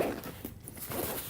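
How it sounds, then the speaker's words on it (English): Expansion zippers on a Peak Design 45L travel backpack being unzipped, a brief close rasping pull that runs steadily for about a second. "these zippers right here, unzip that on each side"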